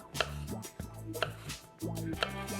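Sharp kitchen knife cutting through tough, burr-like hot peppers, with several crisp chopping strokes about a second apart, close and fairly loud, and faint low voice tones underneath.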